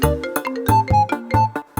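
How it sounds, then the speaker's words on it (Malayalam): A phone ringtone plays a bright, repeating electronic melody of short musical notes, loud and close, with no voices. "താര രാവിലെ ഫോൺ ചെയ്യണത്"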